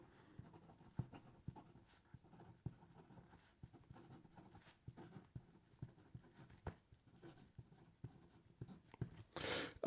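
Fountain pen nib scratching across paper in quiet, irregular ticks and soft strokes, close and faint, followed by a brief louder rustle at the end, no talk.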